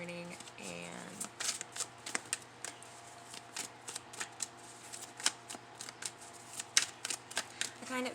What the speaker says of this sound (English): the current cards that I'm shuffling right now are my Magical Correspondence deck